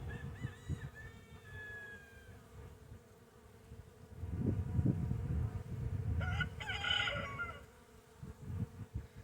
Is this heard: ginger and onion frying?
no